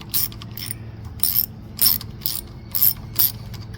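A ratchet fitted with a 1/4 inch socket tightens the intake manifold bolts on a Briggs & Stratton engine, clicking out six short bursts of close metallic pawl ratcheting with brief pauses between strokes.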